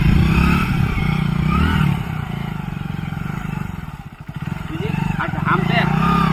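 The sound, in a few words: motorcycle riding through a farm field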